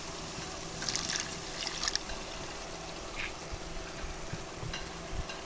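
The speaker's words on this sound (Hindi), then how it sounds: "अब इसके अंदर मैं डाल देती हूँ थोड़ा सा पानी।" Water is poured into roasted spices in a cooking pan, a soft, faint trickle and splash over quiet background noise.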